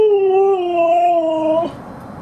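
A dog out in the snow lets out a single long, close, tonal howl-whimper that wavers slightly and then breaks off into a short rough yelp, with no speech.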